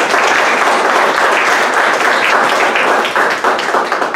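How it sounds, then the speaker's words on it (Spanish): An audience at a data science round-table panel claps loudly and continuously for a professor, a dense, close wash of applause with no speech over it. "bueno, un aplauso, profesor."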